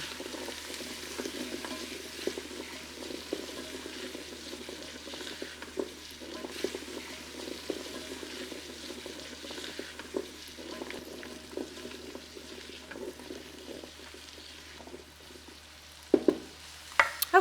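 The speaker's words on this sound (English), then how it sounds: "while they're sauteing for about 5 minutes" Seasoned leftover noodles sauté in a pan with a continuous soft sizzle and crackle, occasional stirring scrapes, and a few sharper utensil knocks near the end.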